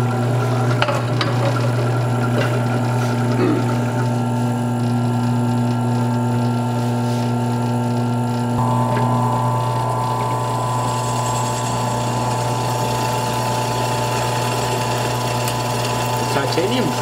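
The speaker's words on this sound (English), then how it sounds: "this is Braden's scooter, and I gave him this SCS, so I'm just going to drill it" A power drill boring through a titanium scooter SCS clamp and bars runs as a steady high whine, changing pitch halfway through as the bit bites deeper, continuous and close.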